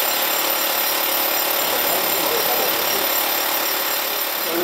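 A steady, loud mechanical drilling roar runs without a break, a dense grinding rock drill boring blast holes for dynamite, with no voices over it.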